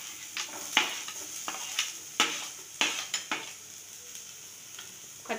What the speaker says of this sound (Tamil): இப்போ நம்ம வச்சுருக்க வெங்காயம் போட்டுடலாம்.